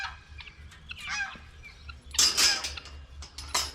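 A domestic goose on a homestead gives a new kind of call, a few loud honking bursts over steady farm background noise, near and clear with no talk.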